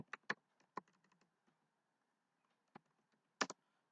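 Computer keyboard typing for writing SQL Server code, a few sparse, crisp clicks in small clusters with long quiet gaps between them.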